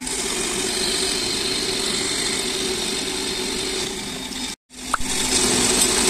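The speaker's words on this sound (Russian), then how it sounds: "Втыкаем в станочек, включаем." A small lathe-type machine tool starts up and runs steadily while cutting a soft metal rod, a continuous close mechanical drone that stops briefly near the end and then resumes with a sharp click.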